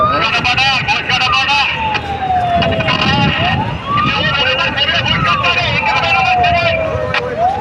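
A fire service vehicle siren wails in repeated rising and falling sweeps at a Dhaka airport fire, loud and close, over a crowd's murmuring voices and street noise.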